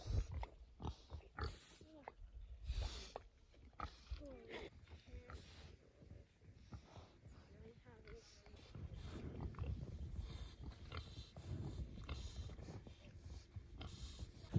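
Pigs snort, grunt and root around in snow near their shelter in Arkansas, a close, busy run of rough nasal snuffles and chewing sounds that grows denser toward the end.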